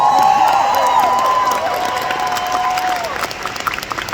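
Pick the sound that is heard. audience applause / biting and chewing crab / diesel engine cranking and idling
audience applause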